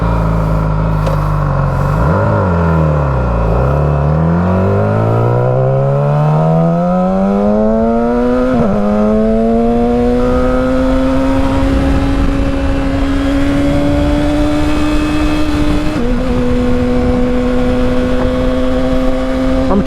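Yamaha R6 sport motorcycle on the street, its engine revving loud and close, pitch dipping and then climbing steadily through the gears into a sustained high whine.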